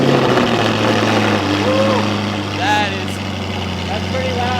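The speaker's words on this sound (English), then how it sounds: "This is going to be probably as loud as it's going to be, especially with a cold start too." An Audi R8 with an Fi active exhaust rumbles steadily on a cold start with a deep exhaust drone, loud, while people talk over it nearby.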